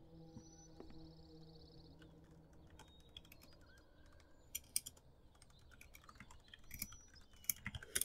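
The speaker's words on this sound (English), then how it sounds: "you guys can hear my keyboard clicks" Quiet, scattered keyboard clicks tap irregularly in a hushed room, with a faint high electronic whine early on.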